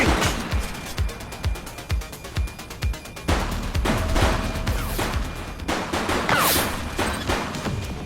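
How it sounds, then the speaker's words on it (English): A suspect fires a gun during a police chase in the PS5 video game The Precinct: rapid bursts of loud gunshots over a steady roar of engine and action noise, continuing through the clip. "He's shooting."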